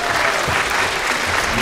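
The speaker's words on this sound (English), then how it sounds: "Give them another round of applause." A short burst of dense audience clapping at a church Christmas concert, steady and fairly loud, with faint voices mixed underneath.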